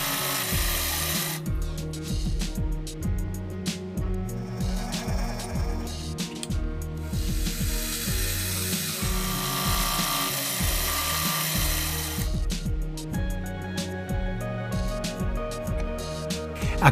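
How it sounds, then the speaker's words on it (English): Milling machine cutting shallow notches into a metal part for an Antikythera mechanism model, a whirring spindle with rough grinding cut noise, changing in pitch as the cutter engages and backs off, close and steady. "Back to the mill and I formed the shallow notches, aiming for a snug fit with the opposing parts."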